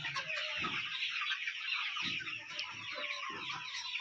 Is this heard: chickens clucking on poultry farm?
yes